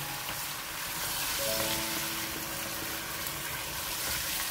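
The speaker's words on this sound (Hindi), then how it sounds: "चिकन को हम अच्छा फ्राई करेंगे इसके अंदर" Chicken pieces fry in a korma masala for shahi chicken korma, making a dense, even sizzle close by with a faint bubbling undertone throughout.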